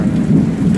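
Rain and thunder from a Florida summer storm, a brief loud burst of dense low rumble with steady hiss on top, no voices.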